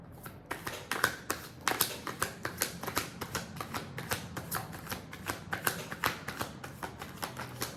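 Tarot cards are shuffled steadily up close, a quick run of crisp riffling taps and flicks that keeps going with no talking.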